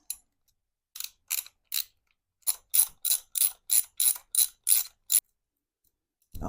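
A ratchet wrench works on the fork bolts of a 1990 Harley-Davidson Sportster 883, giving a few separate clicks followed by a steady run of about ten quick, crisp ratcheting bursts, close up and alone.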